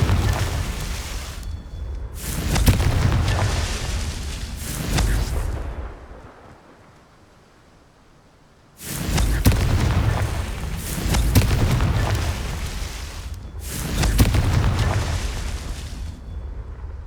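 Loud booming blasts of the Confringo fire spell in Hogwarts Legacy, several heavy explosions rolling in bursts with a quieter lull in the middle before more rumbling detonations.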